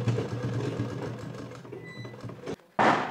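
A sewing machine stitches a jute fabric pencil pouch, a rapid mechanical rattle of needle strokes running steadily, pausing briefly, then starting again with a loud close burst.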